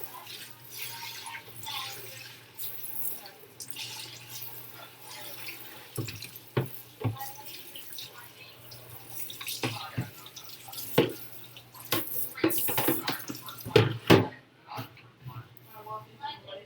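Dishes rinsed under a running kitchen tap, a soft steady water flow with intermittent drips and clattering splashes, while a person talks over it.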